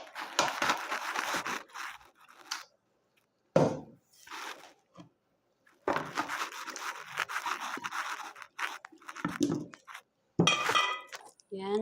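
Sliced squash, red pepper and potato being tossed together in a metal baking tray give repeated scraping clinks and rattles in bursts, with short pauses between them and a voice talking at times.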